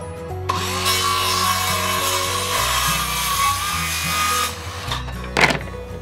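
A power saw whines steadily through 1.5-inch wooden dowels for several seconds, loud and close, then winds down with a final scraping rub.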